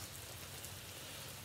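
Soft, steady rain patters continuously in the background, faint and even, with no voices.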